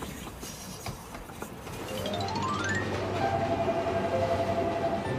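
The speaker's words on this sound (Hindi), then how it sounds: "ये रेल डरावनी है।" A train rumbling past at close range with steady heavy rolling noise, plus rising and sustained tonal whistles and squeals from the railcars, growing louder midway and staying loud to the end.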